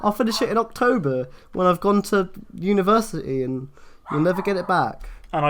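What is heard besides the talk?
No everyday noise stands out behind the speech.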